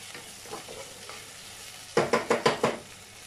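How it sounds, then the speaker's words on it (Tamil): Tomatoes stir-fried in a pan while making mutton paya, a steady low sizzle with a quick run of five loud stirring scrapes near the end; no talking. "தக்காளி நல்லா குக் ஆகட்டும்"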